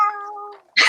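A Bengal cat gives a single close, clear meow that trails off, followed by a brief sharp breathy sound at the end.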